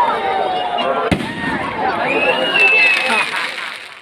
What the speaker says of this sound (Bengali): প্রত্যেকটাই খুব সুন্দর সুন্দর আতশবাজি এখানে আজকে মানে এবারে জ্বালানো হয়েছিল